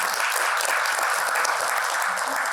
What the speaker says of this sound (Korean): 장성현 차관님께 다시 한번 큰 박수 부탁드립니다